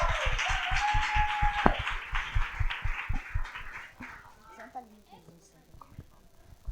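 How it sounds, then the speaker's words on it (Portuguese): Audience at a live talk claps to welcome a dancer and presenter onstage, rhythmic hand claps under a voice, fading out as the applause dies down. "Palmas para ela, gente."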